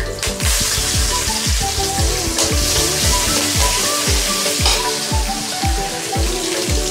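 Ginger sizzles and crackles steadily in hot oil in a pan while chitranna is made, a dense, loud frying hiss lasting throughout with repeated clinks and stirring knocks.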